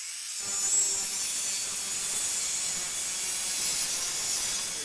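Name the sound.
chop saw cutting aluminum track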